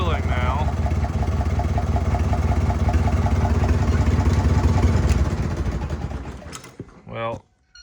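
An old Farmall H tractor engine, running down on some cylinders and short of power, idles with a steady low chugging throb close by for about five seconds before fading and cutting off.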